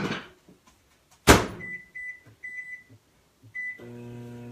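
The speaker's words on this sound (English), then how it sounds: "with the lid on in the microwave for about 12 minutes" Microwave oven holding a lid-covered dish: a door thumps shut, keypad beeps sound in several short bursts, then the steady hum of the oven starting up runs close and even.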